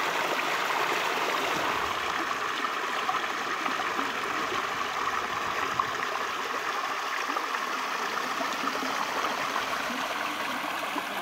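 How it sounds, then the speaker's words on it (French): A garden pond waterfall cascades continuously, a steady rushing splash of running water close by with no voices. "c'est pas désagréable, le bruit de cascade."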